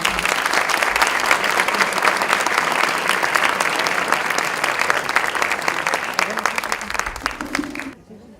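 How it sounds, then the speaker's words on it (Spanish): A conference audience welcomes a speaker with loud, sustained applause, many hands clapping densely for several seconds before it tapers off and stops abruptly near the end. "Vamos a recibir con un fuerte aplauso a la doctora Rosa Inés Floriano Carrera."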